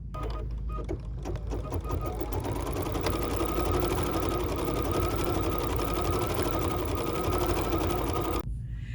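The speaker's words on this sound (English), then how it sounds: "now this is going to stitch my trailer hitch" An embroidery sewing machine stitches a trailer hitch outline in silver thread for a free-standing applique, its fast steady needle chatter running loud and unbroken for most of the clip before stopping near the end.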